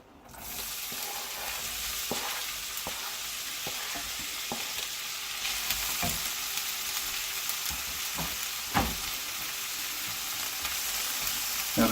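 Onions dropped into oil heated on medium-high sizzle and crackle steadily in a pan, a continuous close frying hiss broken by occasional sharper pops and scrapes, with no voices.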